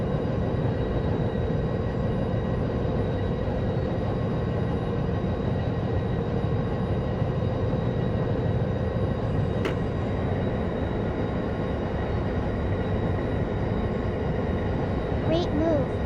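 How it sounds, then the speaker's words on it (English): A train creeping along at very low speed gives a steady, unbroken low rumble and hum with faint tonal whine, constant in level and without distinct clacks. "The train is barely creeping along."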